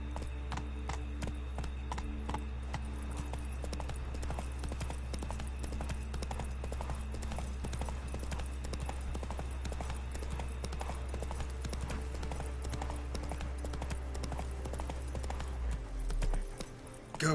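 Horse hooves clip-clop steadily and rhythmically in The Witcher 3: Blood and Wine on PS5, a continuous trotting beat over a low ambient game hum that fades near the end.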